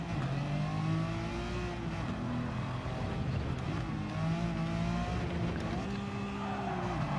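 BMW M3 GTR racing engine in Need for Speed: Most Wanted, roaring steadily with rising and falling revs through gear changes, loud and continuous throughout, with no talk over it.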